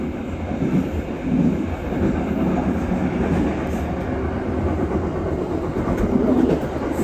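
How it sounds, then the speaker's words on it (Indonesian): Rajabasa passenger train hauled by a CC201 locomotive overtaking the Babaranjang coal train, a steady loud rolling rumble with clattering wheels heard from on board, continuous throughout with no talk. "Kita menyusul kereta api Babaranjang."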